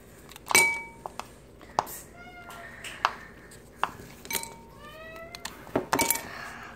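A house cat meows several times in a kitchen, short rising cries scattered among sharp clinks and taps of hard objects, fairly close and loud.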